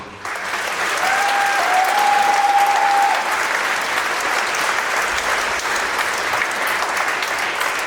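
Sustained applause from a large crowd, loud and steady throughout, starting abruptly and continuing without pause.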